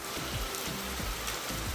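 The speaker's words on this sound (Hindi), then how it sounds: "छत का जो पानी है वो पंजारे की मदद से नीचे आने लग गया है" Rain water pours off a house roof through a drainpipe during a sudden mountain-region downpour, a steady broadband rush with faint low drips and splashes throughout, close and continuous, no voices.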